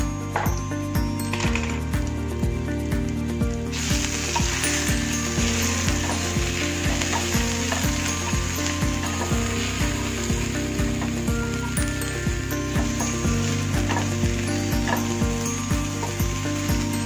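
Spices frying in a little oil in a hot frying pan give a loud, continuous close-up sizzle with intermittent stirring and faint clinks throughout, and no talking.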